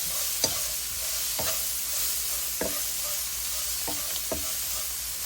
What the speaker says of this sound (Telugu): అట్లా పోపు వేగుతున్నప్పుడు ఇందాక నేను కోసుకొచ్చిన పెసరాకు వేస్తున్నా చూడండి.